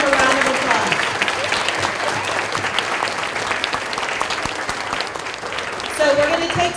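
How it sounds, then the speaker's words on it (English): A crowd claps for a boy who won a singing competition at a Sombrero Festival, producing a dense, steady round of applause that carries throughout, with a voice starting up near the end. "let's give him a round of applause"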